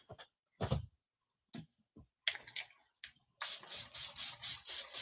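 Short scraping rubs on a wooden transfer surface come in scattered bursts, then settle into a quick rhythmic back-and-forth scrubbing that grows louder toward the end.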